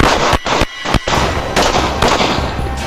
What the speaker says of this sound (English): He fired the first shot.